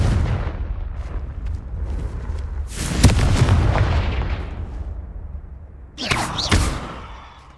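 Confringo spell blasts go off in the video game Hogwarts Legacy, two heavy booming explosions with rumbling decay, the second following a quiet gap.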